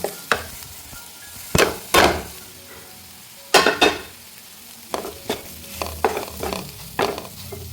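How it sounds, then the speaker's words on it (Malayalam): Bitter gourd with roasted chili being sautéed and stirred in a pan for a Kerala theeyal: a run of sharp scraping stir strokes over a steady close sizzle, no talking. "ഇതെല്ലാം നന്നായിട്ട് വഴറ്റിയെടുക്കണം"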